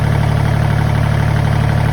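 Kubota L2550 tractor diesel engine idling steadily at close range, a loud, even low-pitched chug with no speech over it.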